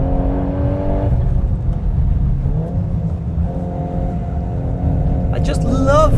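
A VW Golf R (Mk 8.5) engine on overrun, a steady loud drone with shifting engine tones and a rising whine near the end. Someone talks over it throughout.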